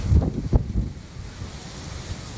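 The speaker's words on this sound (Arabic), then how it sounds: "حيت كاين الريح مجهد الريح مجهد" Strong wind gusts buffet the microphone in low rumbling bursts at Al Hoceima, Morocco, then settle into a steady blustery rush with a watery wash behind.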